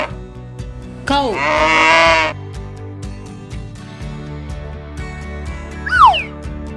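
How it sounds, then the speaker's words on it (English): Sheep on a farm: a long, wavering bleat rings out clearly, followed a few seconds later by a second shorter bleat over a quiet, thumping background. "This is sheep."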